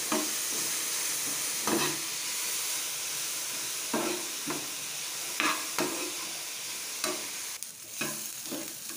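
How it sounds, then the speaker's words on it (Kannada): Vegetables sizzling in a pan with salt and turmeric powder, a continuous steady frying hiss broken by repeated sharp scrapes and knocks of a spoon stirring against the pan. "ಇವಾಗ ಇದನ್ನು ಚೆನ್ನಾಗಿ ಫ್ರೈ ಮಾಡ್ಕೊಳ್ಳಿ"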